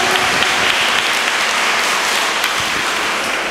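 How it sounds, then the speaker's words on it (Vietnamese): A church congregation at a Vietnamese thanksgiving Mass closing the month of Mary breaks into loud, steady applause that fills the space evenly throughout. "cảm ơn cha xứ và Mẹ Maria bằng một tràng vỗ tay thật lớn được không ạ?"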